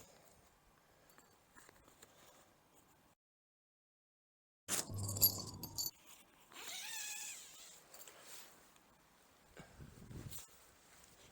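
Zippers on an Ozark Trail screen house being pulled open, a few rasping zips of moderate loudness in a quiet tent setting, with rustling fabric and faint movement between them.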